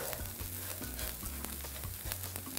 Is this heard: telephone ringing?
no